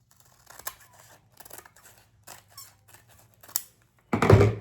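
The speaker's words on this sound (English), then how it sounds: "Let me cut this side off." Scissors cutting paper for a handmade junk journal, several close snips in irregular bursts followed by a louder, longer cutting stroke at the end.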